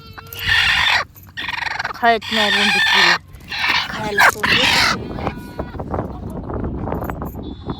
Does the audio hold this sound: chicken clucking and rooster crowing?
yes